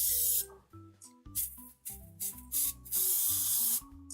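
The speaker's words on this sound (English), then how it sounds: "It's because I try to not speak when I spray." Paint sprays onto a figure in loud close hissing bursts, several short puffs between brief pauses and background music.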